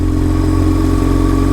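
A BMW R1150 GS motorcycle engine runs steadily while riding, with a loud, continuous low-pitched throb that holds even throughout and has no voices over it.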